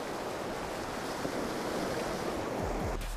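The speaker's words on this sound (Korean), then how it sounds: "파도가 높게 일면서 다리를 덮칠 때면 아찔한 상황도 연출됩니다" High sea waves crash and roar continuously against a coastal bridge in Jeju at high tide, a dense, wide surf noise mixed with wind buffeting the microphone, with no voices.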